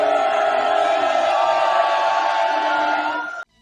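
Large concert crowd booing: a sustained, dense wall of many low drawn-out voices, loud and steady for about three seconds before cutting off abruptly.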